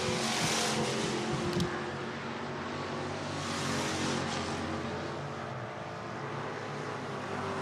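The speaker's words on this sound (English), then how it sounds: "Hot laps underway here for the Pure Stock division." Pure Stock race cars run hot laps on the All-Tech Raceway speedway in Lake City, Florida, a steady, loud engine roar that fills the whole stretch, with a brief sharper burst near the start and no talk.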